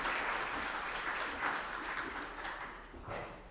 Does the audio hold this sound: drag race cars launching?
no